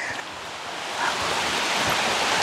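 River water rushing and splashing during a crossing, a dense close wash of broadband noise that swells slightly after the first second.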